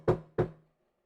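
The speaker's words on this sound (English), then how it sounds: "knocking and ringing the bell, doorbell and stuff" Two sharp knocks on a door in a song, close and resonant, followed by a brief decay into silence.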